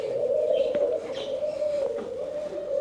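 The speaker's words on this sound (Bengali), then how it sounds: "আরেকটা খাঁচা আছে, এটাতে এই ধরনের পাখি অনেকগুলা।" Pigeons coo steadily inside an aviary cage, a continuous low warbling murmur from several birds close by, with a few brief higher chirps mixed in and no voices.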